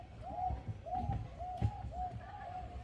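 A bird at Adelaide Zoo repeats a rising-falling hooting call about five times at an even pace, moderately loud, while people chatter and move nearby.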